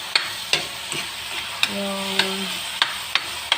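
Tomatoes sizzle while being crushed and stirred in a sautéing pan, with regular sharp scraping knocks of the utensil against the pan over a constant frying hiss and a brief voice.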